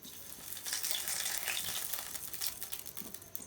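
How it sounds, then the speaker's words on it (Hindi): Breaded peri peri chicken wings dipped into hot oil, a close, crackling sizzle with bursts of bubbling and fine popping throughout. "अब हम इनको फ्राई करेंगे।"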